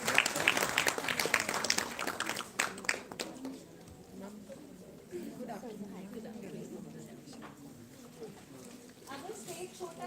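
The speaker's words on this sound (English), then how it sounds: "So a big round of applause for these kids." An audience applauds a children's performance at a Basant Utsav event in Chandigarh, a burst of clapping in the opening seconds that fades into crowd chatter and an amplified voice.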